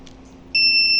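A steady high-pitched electronic buzzer alarm, part of an Arduino home security setup triggered by a door opening, suddenly switches on and holds continuously over faint background hum.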